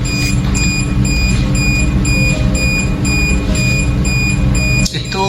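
An HHPC 3+ handheld particle counter sounds a repeating alarm of short, evenly spaced electronic beeps, held steady for about five seconds over a constant low hum.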